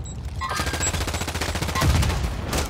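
Rapid bursts of automatic rifle fire crackle in a shooter video game, a dense rattling volley lasting a couple of seconds with no talk.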